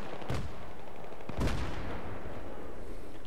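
Grenade blasts in the Battlefield 3 video game, two heavy booming bursts with a low rumbling tail, the second louder, set against constant background battle noise.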